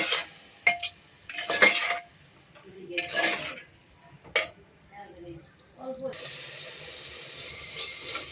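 A spice masala stirred in a pan with a splash of water: intermittent scraping and clinking strokes of a spoon against metal, then a continuous soft sizzle settling in toward the end.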